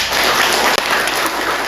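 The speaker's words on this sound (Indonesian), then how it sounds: "beri tepuk tangan untuk kelompok" Applause for a student group during a lecture-style presentation, a dense, steady patter of many hands clapping at once, loud and close, with a brief dropout midway.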